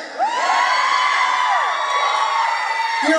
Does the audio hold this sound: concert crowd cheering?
yes